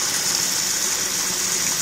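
A homemade Tesla water turbine built from MDF and CDs on a kids' bike axle spins a motor, giving a steady, loud rushing hiss of gushing water with a low mechanical whir underneath, continuous and close with no talking.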